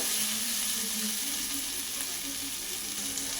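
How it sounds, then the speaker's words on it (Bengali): Long beans in poppy seed and mustard paste sizzle steadily in a pan while being stirred, a dense continuous frying hiss throughout, fairly loud and close, with no talking. "পোস্ত বাটা দিয়ে আবারও কিছুক্ষণ এটাকে একটু নাড়াচাড়া করে নেব"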